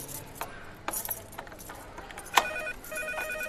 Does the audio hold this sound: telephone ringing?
yes